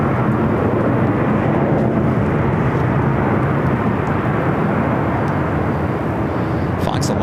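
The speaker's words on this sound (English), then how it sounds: "we'll get the JetBlue A321 coming up from Fort Lauderdale, Florida" JetBlue Airbus A321 arriving at LAX from Fort Lauderdale: an even, loud jet roar runs steadily throughout, a broad rumbling wash with a voice talking over it.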